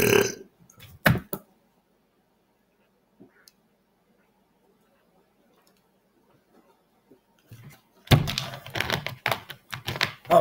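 Loud human burps come in short bursts at the start and again near the end, with a long near-silent gap between them.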